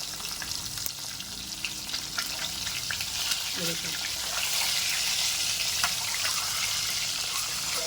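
Eggs frying in oil with salt, a steady close crackling sizzle that grows slightly louder throughout, with a soft voice underneath.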